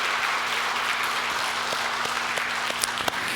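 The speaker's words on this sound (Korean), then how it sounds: "오늘 너무 귀하게 은혜 끼쳐준 우리 청년 위해서 격려의 박수 우리 한번 하도록" A church congregation claps together during a Sunday worship service, a steady wash of applause from many hands filling the room without pause, with a few sharper claps standing out near the end.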